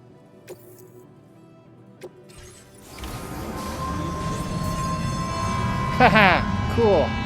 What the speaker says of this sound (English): Let's go for a monorail ride.